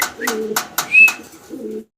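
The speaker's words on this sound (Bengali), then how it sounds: "রেসার কবুতর দেখাচ্ছি আপনাদেরকে" Blue checker maxi racing pigeons coo close by in low, throaty bursts, mixed with sharp clicks and a brief high chirp before a final coo.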